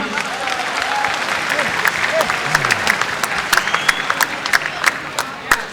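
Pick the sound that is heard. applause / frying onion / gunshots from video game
applause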